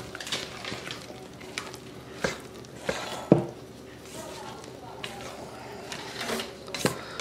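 A spatula scrapes and stirs homemade pumpkin bread batter around the bottom of a mixing bowl, making a rough, continuous swishing with sharp taps against the bowl every second or so.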